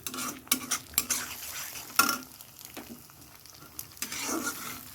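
Egg and potato bhujia frying in a pan, with a soft sizzle underneath and sharp scraping and clinking as a utensil stirs against the metal, irregular strokes close by, no talk.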